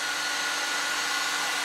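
A heat gun blows steadily, shrinking heat shrink tubing over a model railway track joint, a loud, even rushing hiss up close with no pauses and no talking.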